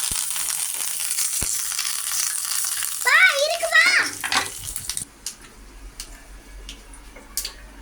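Mustard seeds hit hot oil with dried chili for a carrot chutney, giving a bright, steady frying hiss up close for about three seconds, then a voice speaks while a softer sizzle and kitchen clatter carry on.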